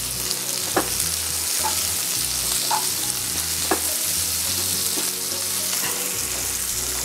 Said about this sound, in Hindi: प्याज को बराबर चलाते रहेंगे ताकि सभी तरफ से ये भुन जाए।